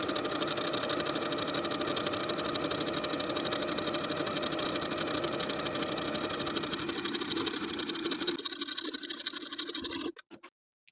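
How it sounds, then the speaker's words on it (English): A sewing machine stitches the bottom hem of a peplum top in one long, steady, fast run of needle chatter and motor whir, which slows and then stops near the end. "Then I'll sew close to my finishing stitches all the way around to finish the bottom hem."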